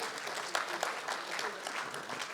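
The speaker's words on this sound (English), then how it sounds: "Please, a round of applause for him again." Audience applause following a lecture, a steady dense wash of many hands clapping at moderate level, continuous from start to finish with a few sharper claps standing out.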